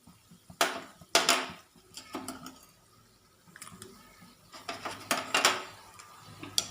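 A spoon stirs mustard seeds, chana dal and urad dal tempering in a pan, scraping and clinking against the metal in irregular bursts with faint sizzling underneath.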